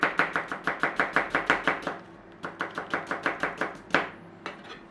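A knife slices onions on a board in quick, even strokes, about a dozen crisp cuts, then a short pause before another steady run of slices, close and clear with no talk.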